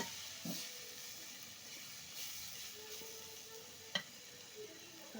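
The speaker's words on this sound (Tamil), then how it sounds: "இது எண்ணெயில் ஒரு பிரட்டிக்கலாம்." Soft, steady sizzling of egg curry ingredients frying in oil, quiet and close, with a couple of faint clinks and stirring sounds.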